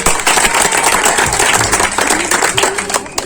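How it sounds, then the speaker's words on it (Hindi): Applause from a crowd at a school honours ceremony, a dense steady wash of many hands clapping together for a few seconds, loud and close with no break. "फिर आप लोग अपने एक बार जोरदार ताली बजाइए"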